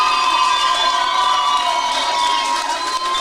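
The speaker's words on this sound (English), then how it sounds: "keep the applause going" A loud crowd at a boxing club home show cheers and shouts for the winner of a bout, with high, sustained voices blending into one continuous roar over three seconds and clapping buried beneath it.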